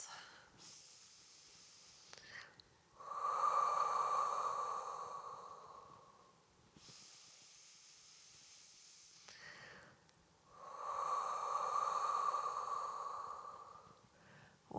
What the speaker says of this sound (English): holding it here, taking some deep breaths.